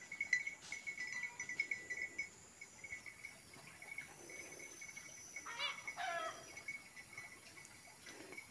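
Faint chicken clucking comes from a rural spot near a river, a few soft, distant clucks over steady insect and outdoor ambience.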